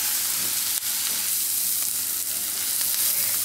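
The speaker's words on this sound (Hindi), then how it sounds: "इसको हम थोड़ी देर पकाएंगे, 2 मिनट के लिए, बीच बीच में हिलाते रहेंगे।" Vegetables sizzle and crackle steadily in a hot pan as they are stirred, a close, continuous frying hiss with faint scraping and no voices.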